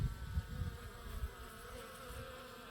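A steady insect buzz of honeybees around a hive in autumn as they pull out drones, continuous and fairly close, with a dense hum and no voices.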